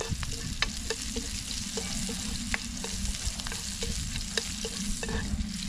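Onion and garlic sauté in a small amount of reused frying oil, giving a loud, steady sizzle up close, punctuated by repeated sharp clicks and scrapes of stirring.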